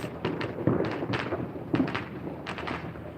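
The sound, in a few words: neighborhood fireworks on the Fourth of July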